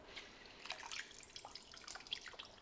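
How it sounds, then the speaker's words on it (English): Chicken stock splashing into a pan, a short burst of liquid pouring with scattered drips and gurgles, close and fairly faint, no voices over it. "Splash of chicken stock."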